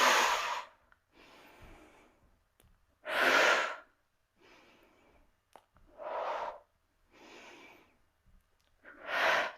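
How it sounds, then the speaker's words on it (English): Slow, deep breathing during a core-strengthening yoga flow, with loud drawn-out breaths recurring about every three seconds and quieter, softer breaths between them, close to the microphone with no talking. "Inhale."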